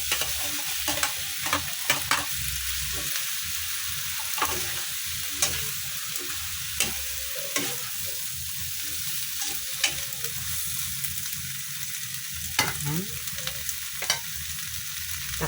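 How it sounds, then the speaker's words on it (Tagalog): Chayote and carrots sauté in hot olive oil, a continuous loud sizzle and frying hiss with repeated sharp clacks and scrapes of a spatula stirring the pan, heard up close and alone for a long stretch. "Tapos ilagay na natin yung ating"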